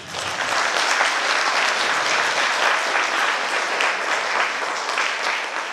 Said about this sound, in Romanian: Vă rog să aplaudați!